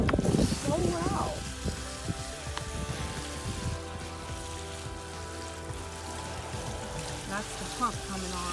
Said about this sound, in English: That's the pump coming on.